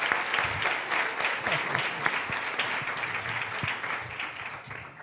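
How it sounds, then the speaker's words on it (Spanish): Audience at a 2023 book launch applauding with sustained, dense clapping from a crowd indoors, steady throughout with a few faint voices mixed in. "Ahora habría que hacer aplausos retroactivos para todos los que hablaron."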